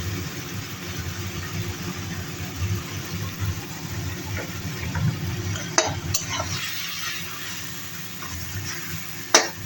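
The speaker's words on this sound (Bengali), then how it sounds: "রসুন আর কাঁচা লঙ্কার কাঁচা গন্ধটা চলে যাওয়া পর্যন্ত এটাকে একটু নেড়ে নেব।" Garlic and green chilli paste fries with a little salt in a pan for chicken kosha, giving a continuous muffled sizzle and soft stirring, with a low steady hum underneath and a few sharp clicks toward the end.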